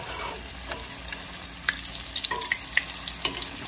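Cabbage fritters sizzle and spit in an overheated pan, a continuous crackling fry with scattered sharp pops, fairly close and steady, with no voices.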